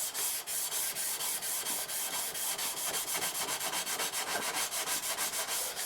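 A forged chef's knife blade is hand-sanded with 400-grit sandpaper in fast, even back-and-forth strokes, a close rhythmic scratching rasp that repeats steadily throughout with no talking.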